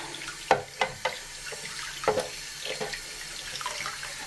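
Warm tap water runs while soap is rinsed off a sanded AMT 1983 U.S.S. Enterprise model part, a steady close splashing stream broken by a few sharp clatters and splashes.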